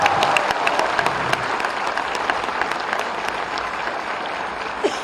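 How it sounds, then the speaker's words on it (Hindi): An audience claps steadily at a comedic gathering before Yogi Adityanath, a thick roar of many hands sustained for five seconds with a few sharper individual claps standing out. "जिस प्रकार आप तालियां मार रहे हैं"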